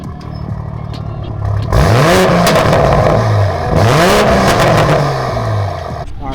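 A Toyota Supra fitted with an RK titanium exhaust and an HKS blow-off valve revs loudly up close, two sharp rising sweeps that fall back, with engine drone in between.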